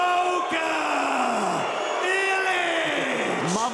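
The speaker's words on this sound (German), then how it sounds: "ich habe noch nie einen Kämpfer erlebt, der so dermaßen nach Strich und Faden ausgebuht wurde" Arena crowd at an OKTAGON MMA event loudly booing and jeering a fighter, a sustained dense roar of voices with an announcer's voice ringing over it.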